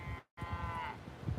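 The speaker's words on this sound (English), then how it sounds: "they're definitely happy mooing." Cattle on a neighboring farm let out a single drawn-out moo, fairly faint and distant, with a brief gap of near silence before it.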